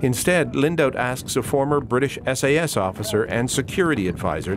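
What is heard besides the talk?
No distinct noise like a dog, phone or traffic.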